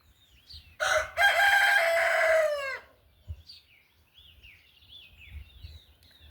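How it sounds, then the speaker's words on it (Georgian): Rooster near a home lets out one full, loud, close crow lasting about two seconds, then faint bird chirps carry on in the background. "ეს მამალმა ხო გამამწარა, დავჯდები, როცა დავიწყებ გადაღებას, მაშინ მოყვება ყივილის ხოლმე"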